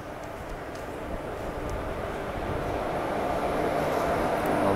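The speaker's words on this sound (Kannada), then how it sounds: "ಟ್ರೈನ್ ಎಂಟ್ರ್ ಆಯಿತು ವ್ಯಾಪ್ 4 ಜೊತೆ" A train hauled by a WAP-4 electric locomotive arrives at Banaswadi station in Bengaluru. A broad, steady rumble grows gradually louder as it approaches, with no voices over it.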